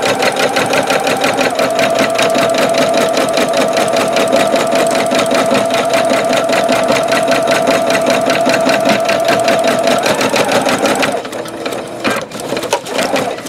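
A Singer Futura Quintet sewing machine stitches with metallic thread, a fast, steady mechanical whirring and rapid needle chatter close by, running continuously before stopping near the end with a few clicks.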